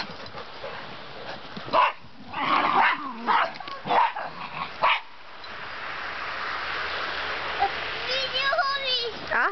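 Dogs bark and yip in short bursts close by in a home while someone talks. A steady broadband hiss fills the second half of the clip.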